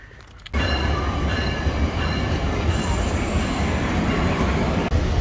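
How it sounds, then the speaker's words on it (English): A passenger train heading to DC rolls along the rails, a loud steady rumble with faint wheel squeal, heard from inside the car after starting abruptly. "Take the train to DC."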